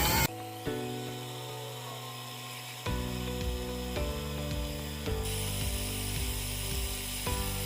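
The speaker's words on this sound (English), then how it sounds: "Go ahead and lock this over, and we're gonna start spooling up this reel." A fishing reel clicks and ratchets in steady bursts while being spooled up with braided line, the mechanical winding close and fairly loud with no talk.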